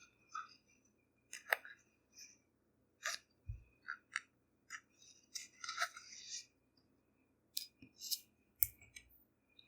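Scissors snip through doll clothing fabric along a marked line in short, separate bursts of crisp cutting with quiet pauses between them, close and alone in a still room.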